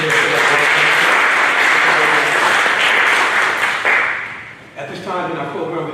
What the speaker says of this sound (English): Let's give our mayor another round of applause.